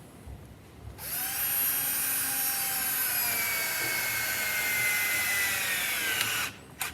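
Cordless drill driving the last screw into a wooden face frame as its battery dies: one steady, whining motor run of about six seconds, loud and close, with a pitch that sags slightly near the end before it stops.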